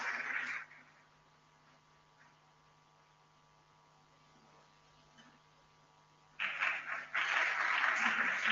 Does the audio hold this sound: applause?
yes